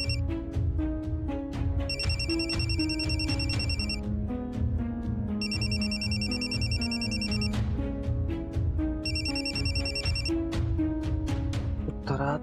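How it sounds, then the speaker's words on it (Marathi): A telephone rings with an incoming call, sounding three bright, electronic trilling bursts in a regular pattern over a steady, tonal background. "नाही, जरा घरून फोन आलाय."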